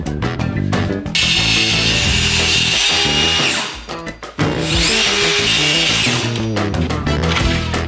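A power saw cuts through wood to open a path for heating radiator pipes, a loud, close, continuous grinding whine that dips briefly midway and then resumes at full strength, with no voices.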